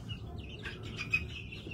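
Chickens of the New Hampshire breed cluck softly on a farm, a few short calls rising over a steady low background murmur.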